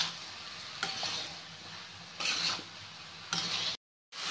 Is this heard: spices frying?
yes